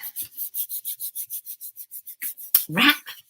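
Card being rubbed by hand onto a gel press plate inked with alcohol inks, a quick run of about fifteen even, scratchy strokes close up, ending in a louder slap and a smeared swipe.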